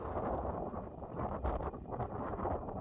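Gusty storm wind buffeting an outdoor golf course, a steady broadband roar that swells and rustles throughout, loud and close to the microphone with no talk.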